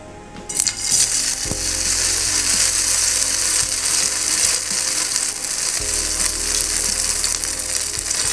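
Brinjal slices drop into hot oil in a kadai and then fry in a loud, steady, hissing sizzle, with a few soft knocks against the pan, close and without voices.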